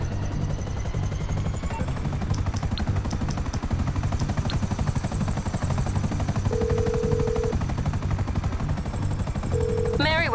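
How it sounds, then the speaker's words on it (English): A helicopter in GTA Online's Cayo Perico Heist thrums nearby with a loud, steady rotor chop that never lets up, overlaid by gunfire-like bursts and brief game sounds. "A helicopter has been dispatched to your area."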